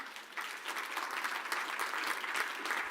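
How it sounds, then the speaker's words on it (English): Steady, dense applause from a business forum audience at the opening of the EU–Kenya Business Forum 2023 fills the room, sustained and even throughout, with no voices over it. "let's give them a proper round of applause"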